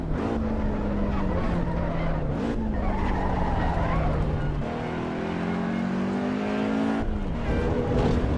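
A race car in a driving simulator laps the Nürburgring Nordschleife on the 24-hour layout. The engine drones steadily with pitch sweeps as gears shift, along with tire noise, and runs continuously without talk.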